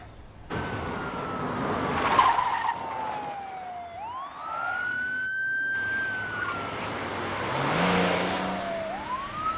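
A suspect's car speeds away during a police pursuit, its engine roaring under wailing police sirens that rise and fall repeatedly, with the steady rush of traffic noise throughout.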